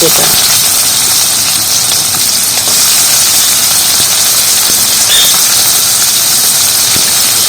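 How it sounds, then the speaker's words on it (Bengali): Chopped onion dropped into hot black oil fries with a loud, steady hiss and sizzle that fills the whole stretch, close and unbroken, with no voices over it. "এবার দিয়ে দিচ্ছি কালো তেল এর মধ্যে দিয়ে দেবো কাটা কেটে রাখা পেঁয়াজ"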